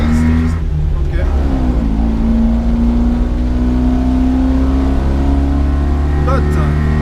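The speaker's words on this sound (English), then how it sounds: "1980 Mitsubishi Minica van" 1980 Mitsubishi Minica van engine revving while driving, a loud raspy high-pitched drone whose pitch rises and shifts through gear changes, sustained and close throughout.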